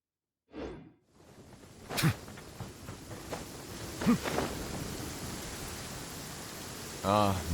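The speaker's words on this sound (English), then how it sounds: "This heavy rain must be quite an inconvenience for you." Heavy rain pouring in a video game scene, a dense, constant hiss after a brief whoosh, with a few louder splashes or rumbles and a short chime near the end.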